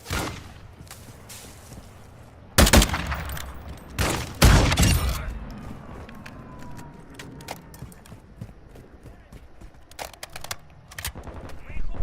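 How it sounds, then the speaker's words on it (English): Video game gunfire in a military shooter, with heavy bursts of rapid automatic fire and loud single shots, mixed with footsteps, game radio voice lines and a player talking over the action. "You are taking effective fire."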